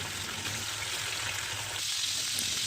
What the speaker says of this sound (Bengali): লবণ মিশিয়ে রাখা চিকেনগুলোকে আমি একটু করে ভেজে নেব